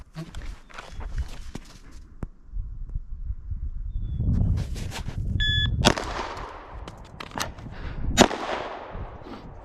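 Handgun shots fired outdoors during an Air Marshal handgun qualification course: a few sharp, loud cracks spaced apart, with a shot timer beep, footsteps and handling noise between them.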